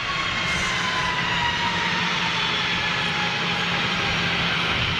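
A jet airliner's CFM engines power up with a loud, steady, broadband roar, close and sustained throughout without letting up.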